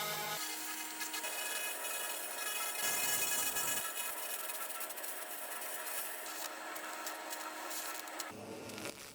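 Laser cleaner scanning across rusty rebar, giving a steady, dense, high buzzing hiss that runs almost without a break and changes tone briefly partway through.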